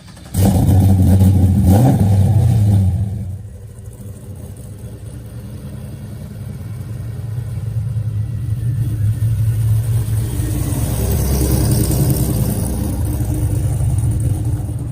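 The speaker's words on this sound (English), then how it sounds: "having a 750 horsepower LSA supercharged engine inside of their everyday work truck" A 750-horsepower supercharged LSA V8 in a square-body Chevy work truck, one loud rev lasting about three seconds, then dropping to a deep rumbling idle that swells slightly, heard close with no talk.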